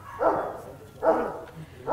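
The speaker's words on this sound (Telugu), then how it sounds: "మీ డాగ్స్ వస్తున్నాయా?" Dogs at a farm house give three evenly spaced barks less than a second apart, moderately loud and fairly close, with no talking.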